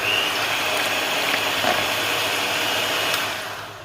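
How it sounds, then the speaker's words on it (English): An electric hand mixer whips double cream with a steady, continuous high whirring drone that runs at constant loudness with faint rattling, then begins to fade at the end. "we're gonna whip the double cream until thick and fluffy"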